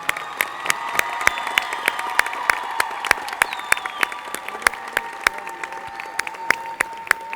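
Sustained applause from a crowd at a softball team celebration, with scattered louder claps standing out over the steady clapping and a few faint cheers.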